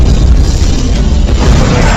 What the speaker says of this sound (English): There was a heavy-duty explosion.